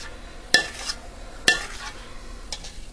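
A spoon scrapes hot butter toffee from a pot: two sharp metallic scrapes and clinks about a second apart, followed by softer scraping, close up and with no talking.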